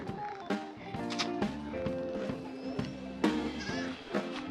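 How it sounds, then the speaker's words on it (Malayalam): Young goats bleat repeatedly at close range on a farm in Nelliyampathy, Kerala, short wavering cries overlapping one another in an uneven series. "ഇതാ ചെറിയ ആടുകളൊക്കെ"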